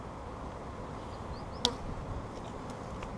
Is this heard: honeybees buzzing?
yes